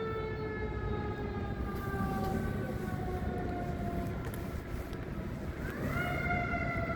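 A fire truck's wailing siren rises and falls steadily over constant street rumble, fairly close and loud, its pitch sweeping upward again near the end.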